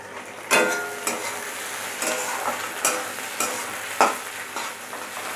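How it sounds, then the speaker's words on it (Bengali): Onion sizzling as it fries in a pan, with a utensil repeatedly stirring and scraping through it in irregular bursts over a steady hiss, close and fairly loud. "এবার পেঁয়াজটা একটুখানি ভেজে নিই"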